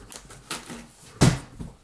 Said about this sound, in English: Dropping all my pens.